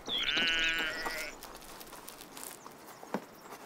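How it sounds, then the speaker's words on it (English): Sheep bleat in a sustained, loud call near the start on open grassland between oak trees, then quieter rustling and faint footsteps follow. "The greenlands between the oaks are grazing grounds for the sheep."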